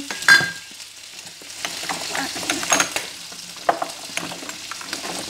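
Food frying in a pan for a quiche Lorraine, a steady close sizzle with irregular stirring scrapes and clatter rising and falling.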